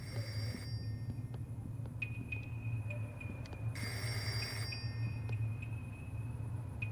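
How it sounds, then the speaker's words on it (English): A phone rings in the video game Reveil: faint, thin electronic rings come in separated bursts over a low steady hum of game ambience. "Oh, is that a phone ringing?"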